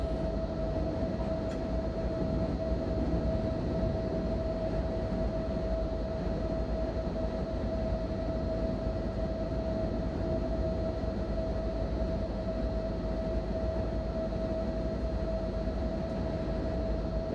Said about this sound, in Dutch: Komt hier nog een Alpenstofzuiger voorbij met een goedere trein?